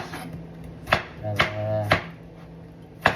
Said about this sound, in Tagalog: hiwa tayo ng sibuyas, kamatis